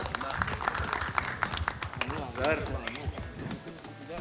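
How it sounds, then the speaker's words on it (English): A crowd applauds at a Bollywood song launch event, steady clapping mixed with a voice over a loudspeaker and some crowd noise. "a big round of applause for the man behind the video also"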